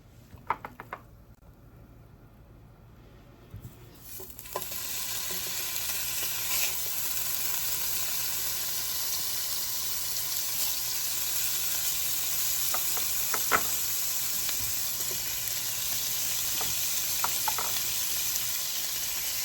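Bacon sizzles steadily in a little oil in a pan, a continuous bright frying hiss that swells after a quiet start, with occasional stirring knocks and utensil taps, no voices.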